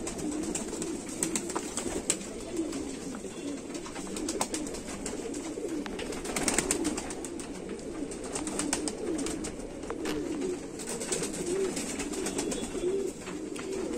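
Pigeons kept in a loft coo softly and repeatedly at close range, overlapping murmuring calls with faint background ambience and no speech.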